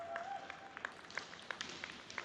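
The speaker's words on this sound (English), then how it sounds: "As the proud dad next to me applauds" A lone spectator at a junior lacrosse game claps for a goal, producing a quick series of light, fairly close hand claps that stand out against faint arena ambience.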